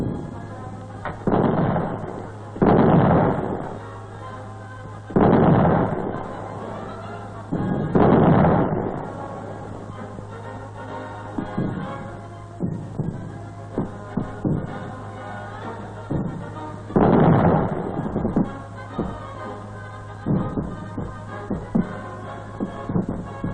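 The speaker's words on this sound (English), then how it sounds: "Task of the field artillery is the intimate support of the infantry with covering and defensive fire" Royal Australian Artillery field guns fire in a series of loud, booming blasts spaced several seconds apart, each followed by a fading rumble, while a low steady hum runs underneath.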